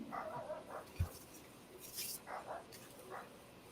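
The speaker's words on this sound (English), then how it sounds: "Shut up, dog." A dog barks a few short, distant yips and barks in a quiet room during a casual hangar-talk livestream, faint and intermittent with no talking over it.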